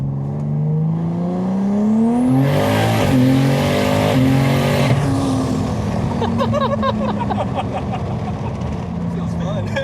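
A 1000HP all-wheel-drive BMW M3 accelerating hard, heard from inside the car: a loud, sustained engine roar climbing in pitch through the gears, then crackles and pops as it backs off, with people talking over it.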